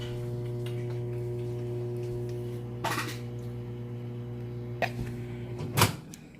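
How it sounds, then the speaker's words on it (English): A microwave oven's steady electrical hum drones on at low volume, broken by a few sharp clicks and clunks. "I'm going to start the microwave."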